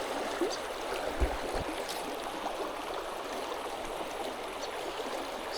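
A river stream flows in a steady, broad wash of rushing water at a moderate distance, with faint trickles and a couple of soft low thumps.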